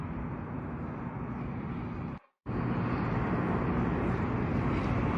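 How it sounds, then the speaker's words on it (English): Steady broadband roar of an airplane passing overhead, loud and continuous, with a brief dropout partway through before the drone resumes. "That's a plane."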